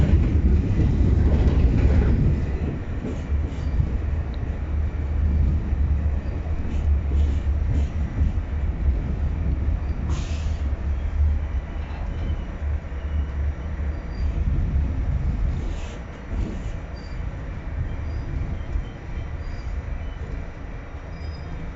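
A New York subway N train rides the tracks toward Coney Island on the West End line, a steady rumbling roar with faint wheel squeal and rail clatter, heard from inside the car, loudest at the start and then easing slightly.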